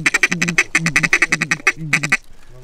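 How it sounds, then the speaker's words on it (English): A rapid series of loud, close wood duck calls, squeaky repeated notes in quick rhythm, then a short pause and a final few calls. "I think these might be wood ducks."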